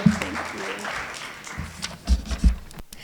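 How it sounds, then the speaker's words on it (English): A short burst of applause from a small crowd at a district community meeting, with muffled thumps and some scattered noise. "can we give our team a round of applause?"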